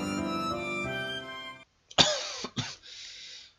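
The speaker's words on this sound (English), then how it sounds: "Oh, cough." A cough from a character in the horror game Mad Father, two short harsh bursts near 2.0 and 2.6 seconds, following a stretch of soft game music and then a brief lingering noise tail.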